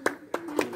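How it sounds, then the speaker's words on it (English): Brief scattered claps of a small audience at an investiture ceremony, three distinct hand claps in under a second, fairly close and loud, with no talking. "So just a nice loud round of applause."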